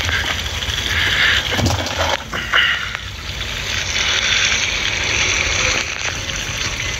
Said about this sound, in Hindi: फिर पानी डालना है